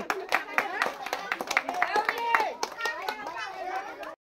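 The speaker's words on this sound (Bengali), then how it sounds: "দর্শক সবাই জোরে হাততালি হবে।" Village women's prize game audience breaks into lively clapping, many hands pattering fast and irregular, close and bright, with children's voices and chatter mixed in throughout.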